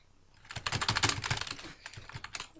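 Rapid clattering keystrokes on a computer keyboard, a dense burst of typing that slows slightly toward the end, fairly close.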